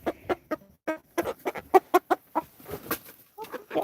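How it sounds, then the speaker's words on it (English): Backyard chickens cluck close by in a quick, irregular series of short, sharp calls, busy and loud in a garden setting. "Naughty chickens."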